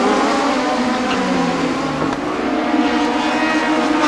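Toyota Atlantic race cars race past on the Toronto circuit in 1990, their engines a loud, continuous high-revving roar with shifting pitch as several cars pass close by.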